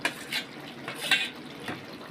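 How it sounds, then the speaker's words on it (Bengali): Fried potatoes go into a pan of spiced katla fish curry with green chilies, making a few faint, scattered clinks and scrapes of utensils against the pan over a soft background hiss. "ভাজা আলুগুলো দেওয়া হচ্ছে।"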